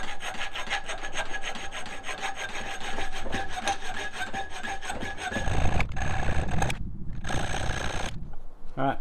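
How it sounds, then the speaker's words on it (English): Hand filing with a rat tail file on aluminum car parts, a steady rough rasping scrape repeating in quick strokes, close and loud, with brief pauses near the end. "we're gonna do it the old-fashioned way with a rat tail file"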